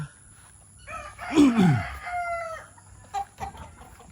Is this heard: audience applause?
no